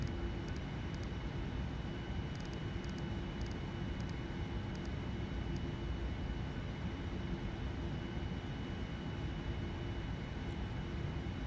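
Steady, loud roar of Boeing 787-9 jet engines under thrust in Flight Simulator X, a constant broadband rumble and hiss with faint ticking clicks near the start.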